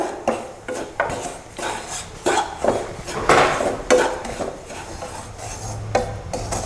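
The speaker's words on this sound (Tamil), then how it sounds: "ரவையை வறுத்துடலாம்" Semolina (rava) roasting in oil in a pan, stirred steadily with a metal spoon that scrapes and clinks against the pan at an uneven rhythm, close and moderately loud, with no voices.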